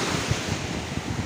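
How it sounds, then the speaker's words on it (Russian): Rough autumn sea waves wash onto the shore at Lazurne, a dense, steady roar of surf mixed with gusting wind buffeting the microphone. "море у нас временами спокойное, но осенью оно бывает довольно часто вот в таком состоянии"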